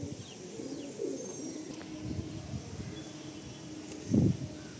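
Pigeons coo softly in a home loft, a few low throaty calls rising from quiet background rustle, with one fuller, louder coo near the end.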